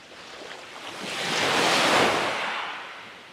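Surf washes onto Plage Bades, a rocky beach at Al Hoceima in Morocco, under overcast skies. A single wave swells to a broad hiss at its peak and then fades away, with light wind rumbling underneath.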